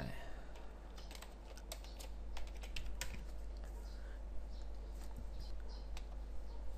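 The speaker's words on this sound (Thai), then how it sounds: "จากนั้นกรอกพาสเวิร์ดลงไป" Password typed on a computer keyboard: a steady run of quick, faint key taps over a low background hum, with no voices.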